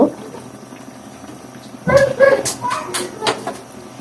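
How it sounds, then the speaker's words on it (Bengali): Fish pieces drop into a pot of boiling cauliflower and bori curry midway through, a sudden wet splash and sizzle that keeps bubbling and crackling close by over a quiet kitchen background. "তো এই যে এটা ফুটে গেছে, তো আমি এখন এর মধ্যে মাছগুলো দিয়ে দেব।"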